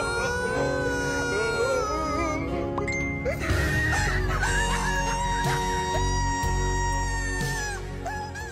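Chickens clucking with a rooster crowing loudly nearby, layered over background music.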